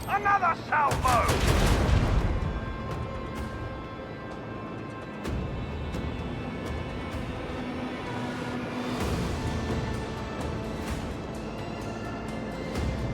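Cannon salvos fire during a space battle in the video game Rogue Trader: a string of sharp booming shots, with a louder burst near the start and further impacts spread throughout. A voice briefly speaks early on.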